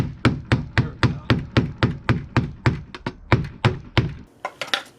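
A rapid, regular series of sharp hammer taps on a hard surface, about fifteen blows, close and crisp, ending with a few lighter clicks.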